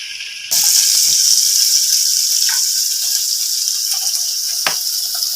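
Fish frying in a small pan, with a loud, steady hiss of oil that carries on without a break and a few faint clicks and taps over it.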